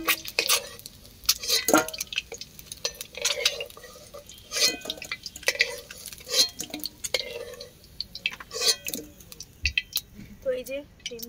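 Fried eggs are lifted out of a pan over a wood-fired stove: scattered scrapes, light clinks and wet squishy taps come in irregular bursts, close by, between stretches of talking.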